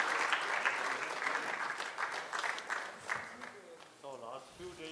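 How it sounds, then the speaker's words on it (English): An audience gives a big round of applause for the Dalai Lama at a hall event, dense clapping that gradually thins and fades as a voice begins speaking near the end. "May I request everybody to give a huge round of applause to His Holiness the Dalai Lama"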